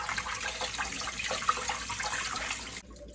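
Tap water runs steadily into a kitchen sink while raw chicken is washed, a close splashing hiss that cuts off abruptly near the end.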